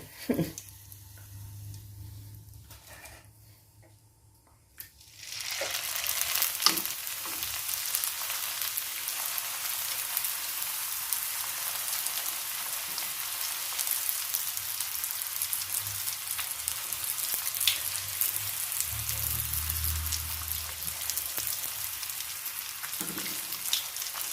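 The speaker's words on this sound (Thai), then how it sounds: "ทอดไปทอดมามันก็จะสวย เอง" Pork-filled wontons fry in oil, beginning with a quieter stretch, then a loud, steady sizzle with fine popping and light stirring scrapes that carries on close for about twenty seconds, with no talking.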